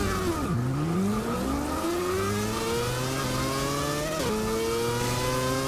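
A 2014 Nissan Juke Nismo RS accelerates hard in a mile drag race in Forza 6, its engine pitch climbing steadily, dropping sharply at each upshift and rising again, loud and continuous.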